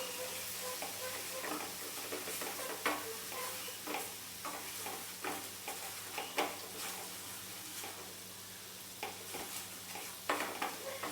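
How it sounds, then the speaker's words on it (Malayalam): Flour stirred into melted butter in a pan for a chicken pasta sauce, a soft steady sizzle with repeated scraping strokes of a spoon, close and without talking. "ഇനി ഇതിലേക്ക് 2 ടേബിൾ സ്പൂൺ മൈദ ചേർത്ത് കൊടുക്കാം. ഇത് നന്നായി കട്ടയില്ലാതെ ഇളക്കിയെടുക്കണം."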